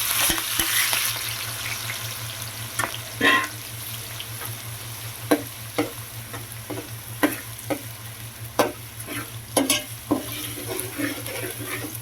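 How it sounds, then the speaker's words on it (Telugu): Onion, green chilli and tomato pieces frying in a pan as the base for a fish curry: a close, continuous sizzle broken by repeated scraping stirs and knocks of a spoon against the pan, with a low steady hum underneath. "ముందుగా కట్ చేసి పెట్టుకున్న ఉల్లిపాయ పచ్చిమిర్చి ఇంకా టమాటా ముక్కలు అయితే యాడ్ చేసుకున్నాము"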